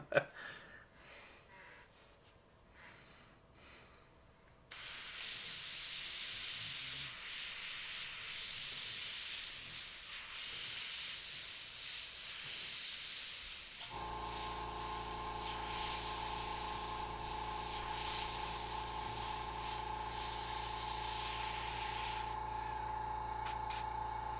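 Airbrush spraying paint onto a clock skeleton, a steady close hiss starting after a quiet moment and running continuously, with a low tonal hum joining midway; no talking.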